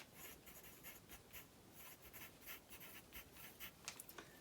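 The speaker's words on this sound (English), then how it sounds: "Keep the same angle of the line as you draw through the seam allowance." A pen or marker draws lines across a paper sewing pattern, a run of soft, rhythmic scratchy strokes, close and quiet, with nobody talking.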